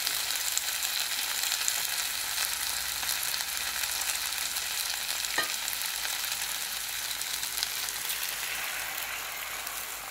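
Warm water hits hot ingredients in a pan for a paneer dish, raising a loud, even sizzle and hiss that holds steady throughout with one faint click midway.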